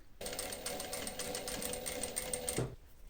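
Sewing machine stitching fabric lining to a leather underwelt for a double welt pocket, a single close, steady run of rapid rhythmic needle clatter lasting a few seconds, then stopping.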